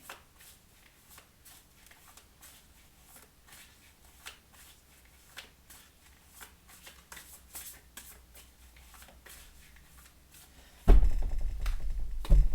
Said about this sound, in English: Just give them a little bit of a shuffle here.